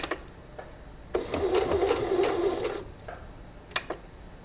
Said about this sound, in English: Now we're going to do a back stitch